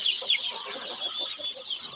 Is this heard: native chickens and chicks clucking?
yes